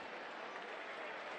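A stadium crowd applauds steadily at a soccer match between the Tampa Bay Rowdies and Indy Eleven as a player leaves the pitch, a dense wash of clapping heard from a distance, even and sustained.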